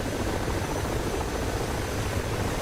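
An Mi-28 attack helicopter in a combat video game makes a continuous, fairly loud rotor and engine drone that stays steady and dense throughout.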